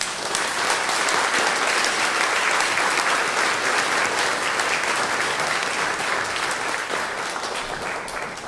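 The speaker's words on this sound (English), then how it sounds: "Let's give them a round of applause." Audience applause after a call to welcome people at a gathering, a dense sustained clapping that stays loud and even for the whole stretch, no voices over it.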